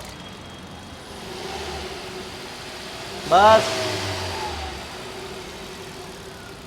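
A used car engine with about 4,000 kilometres on it revs up sharply for a moment, rising in pitch and then settling back to a low idle, with someone speaking briefly nearby.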